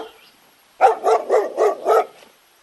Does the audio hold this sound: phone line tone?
no